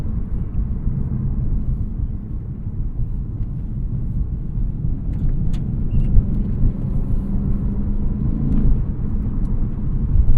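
A 2020 Lexus RC F Track Edition drives through a curve, a steady low engine and road rumble heard from inside the cabin, with no talking.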